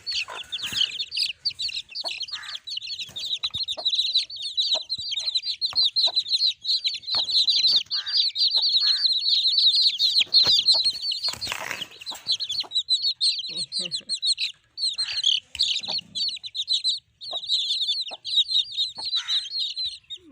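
Chickens cluck and chatter continuously close by, a busy flock of overlapping calls with a few faint background sounds.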